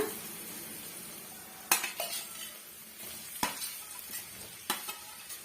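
Mashed potato with turmeric is sautéed and stirred in a pan during a snake gourd snack recipe, giving a soft continuous sizzle with a few sharp spoon scrapes and clicks against the pan.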